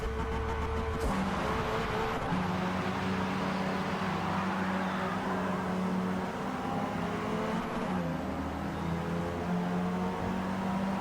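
A Subaru BRZ and an Acura Integra racing in Forza Motorsport, with continuous engine drone and shifting revs, near and loud with no talk over it.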